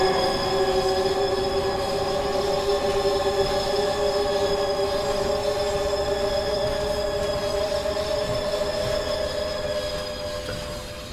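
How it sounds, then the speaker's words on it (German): A train rumbles by overhead in Train Sim World 4, a steady, loud rolling drone with sustained high metallic tones, slowly fading near the end, no talk. "Auch mal da oben fährt ein anderer Zug drüber"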